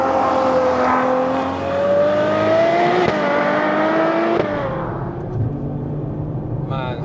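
Ferrari 812 Superfast V12 in race mode, revving hard through rising pitch sweeps with sharp upshift cracks, then dropping to a lower rumble before a brief rev at the end, loud and close inside the cabin.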